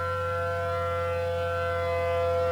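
A civil defense siren in the Roblox game Twisted wails as a steady, loud multi-tone drone, sustained and rising slightly in volume with no voices over it.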